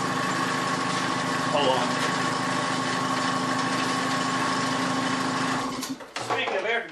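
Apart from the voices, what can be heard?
air compressor running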